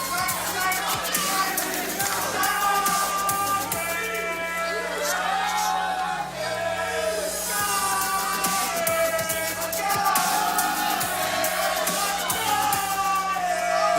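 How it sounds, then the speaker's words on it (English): A crowd at a USFFC mixed martial arts fight event chants and roars steadily throughout, loud and continuous, with commentators' voices talking over it. "The crowd continuing to chant."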